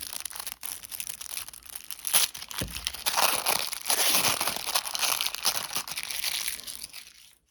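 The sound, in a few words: ripping open packs of Prizm Monopoly cards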